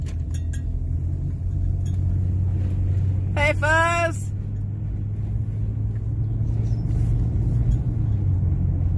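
A pickup truck drives through a small town with a young pack goat riding in the back. A low, steady engine rumble fills the clip, broken briefly by a voice calling out.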